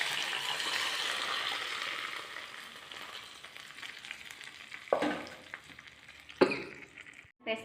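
Hot oil tempering with curry leaves sizzles loudly as drumstick dal soup is poured in and stirred, the hiss fading over several seconds, broken by a few clanks of utensils near the end.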